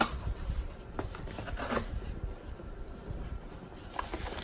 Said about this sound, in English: Let's go ahead and open the box, see what they give us inside here.